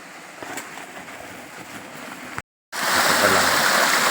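A forest stream flowing at night makes a steady rushing wash of water, broken by a brief dead silence, then returning louder and closer.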